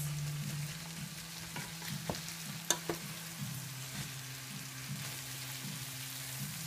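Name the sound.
stirring and frying spiced rice with a spatula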